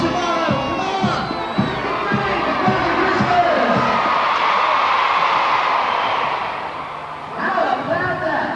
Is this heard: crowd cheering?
yes